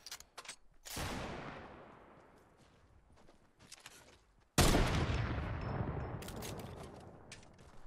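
Two loud bursts of gunfire in a Fortnite Battle Royale match, the first near the start and a louder one midway, each with a long decaying echo, separated by quieter stretches of faint clicks and scattered shots.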